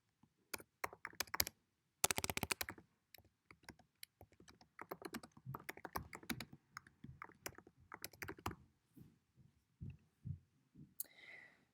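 Keys on a computer keyboard clatter in irregular bursts as a caption is typed, with short pauses between runs of clicks, fairly close and otherwise quiet.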